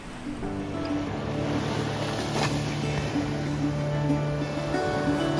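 Winter beach with waves washing ashore, a continuous broad surf roar at steady loudness, with a faint low hum mixed in throughout.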